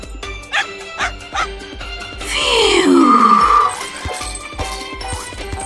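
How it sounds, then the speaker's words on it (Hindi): A cartoon dog barks and yips, a few short barks followed by a longer whining, sliding bark, close and clear over background music. "टॉर्च बदमाश कुत्ता।"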